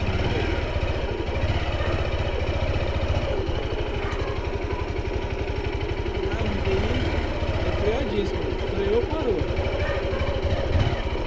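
Honda Fan 150 motorcycle engine runs and accelerates with a steady throbbing drone heard from the rider's position; a person talks over the engine throughout.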